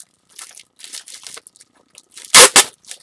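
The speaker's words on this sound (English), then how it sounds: "I'll pull that tape off." Packing tape is pulled off a package in quick ripping bursts, ending in two loud close tearing strips, with quiet rustling in between.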